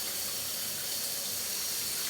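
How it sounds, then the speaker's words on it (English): Water from a hotel room shower in a room on the 81st floor of the Park Hyatt Shanghai runs in a steady, even hiss with no voices. "and this water's still going."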